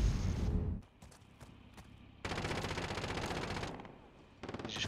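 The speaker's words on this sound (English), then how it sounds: "He just got shot by someone else." Battle royale game gunfire: scattered single shots give way to a long, dense stretch of rapid automatic fire that fades near the end before a final short burst.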